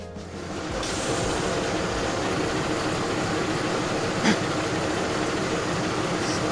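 Steady rumbling drone of a train running in Trainz Simulator on a Bangil to Sidotopo route, a continuous even roar with a brief soft clank partway through, and no one speaking.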